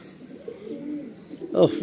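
A Madrasi pigeon gives a short, low, throaty coo at close range, faint at first and then a louder burst near the end, with people talking nearby.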